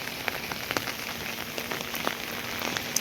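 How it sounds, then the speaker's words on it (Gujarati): Rain falls steadily on a farm, a dense patter of drops with scattered sharper taps on nearby surfaces, continuous and moderately quiet with no voices. "વરસાદ થઈ ગયો અત્યારે"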